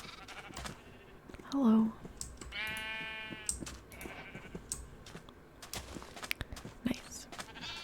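Sheep bleat in Minecraft on a small tropical island farm, with a short bleat near the start and a longer one in the middle. They sit under soft, close speech and the tapping of a keyboard.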